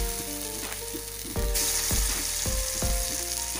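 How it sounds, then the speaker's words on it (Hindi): Beef resha shami kababs frying in oil over medium-low heat, a dense, loud sizzle close up, with a few heavier thumps and spatters as pieces shift in the pan. "तो अब हम इसे मीडियम लो पे फ्राई कर लेंगे अच्छी तरह से।"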